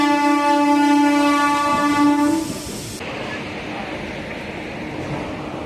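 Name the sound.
Tirupati–Chennai Central MEMU express train departing station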